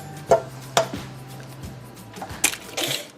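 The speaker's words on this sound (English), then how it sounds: "we had to crack another egg and put it in there" Egg cracked for chocolate chip caramel cookie dough, a few sharp taps and knocks against a hard edge, close and distinct, with light clinks of kitchenware between them.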